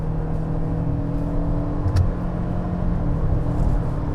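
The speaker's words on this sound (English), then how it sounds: "you heard that engine really revving up again" Steady engine drone inside a hybrid SUV at highway speed, the engine of a 2022 Hyundai Tucson Hybrid or Toyota RAV4 Hybrid revving hard under acceleration, a sustained close rumble and whir with no talk.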